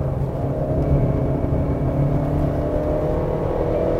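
A Ford Explorer with the 2.3 EcoBoost engine pulls hard in sport mode with paddle shifting. Its engine gives a steady, loud, low drone with layered tones that holds without a break and has no talking over it.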